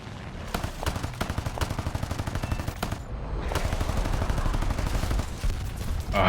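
.50 cal machine guns in a high-tier propeller aircraft video game fire in rapid, dense bursts, loud and close, with brief pauses between bursts.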